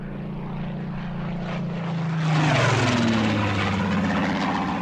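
A helicopter carrying a patient to hospital passes with a loud, steady rotor and engine drone that swells and drops in pitch as it moves by at close range.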